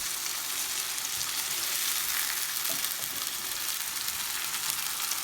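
Food sizzles and fries steadily in a pan while being stirred, with tomatoes and black beans among the ingredients; a continuous close, even crackle with a few soft scraping stirs and no talking.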